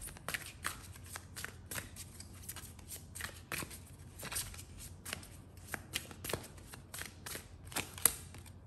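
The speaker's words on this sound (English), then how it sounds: "this deck here is the Angel Tarot by Radley Valentine" An Angel Tarot card deck is shuffled by hand in a quiet room, a soft, irregular run of riffling flicks and light card taps, close and faint with no talk.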